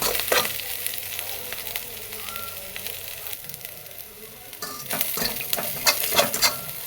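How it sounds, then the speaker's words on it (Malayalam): Carrot, beans, chilli, curry leaves and coriander stirred together in a pan while cooking Maggi noodles, a steady sizzle broken by scraping spoon strokes and occasional clinks of the utensil against the pan. "ബീൻസ് മുളക് കറിവേപ്പില മല്ലിയില എല്ലാം ചേർത്ത് നന്നായിട്ട് ഇളക്കുക"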